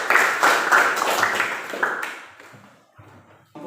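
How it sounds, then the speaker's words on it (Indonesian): A classroom of students claps for a group, a burst of brisk clapping that fades out within about two seconds, leaving near silence with a faint knock at the end. "Tepuk tangan untuk kelompok 1."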